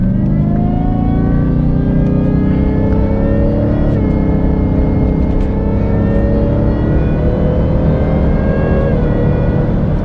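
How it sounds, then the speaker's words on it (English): A Raptor R fitted with a 3.8L Whipple supercharger accelerates hard, its loud engine roar topped by a rising, steady supercharger whine throughout, close and with no voices. "That supercharger whine is damn intoxicating"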